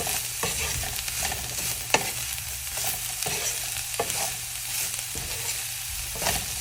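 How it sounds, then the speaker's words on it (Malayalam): Cabbage thoran being stirred in a pan, a spoon scraping and turning the shredded cabbage in repeated strokes over a steady low sizzle, with an occasional sharp tap against the pan. "ഒന്നുകൂടി നല്ല രീതിയിൽ ഇളക്കി യോജിപ്പിച്ചത്"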